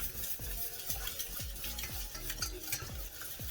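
A whisk scraping steadily around a pan as milk is worked into bechamel sauce, with brisk rhythmic strokes about four per second and a soft bubbling sizzle beneath, close and alone.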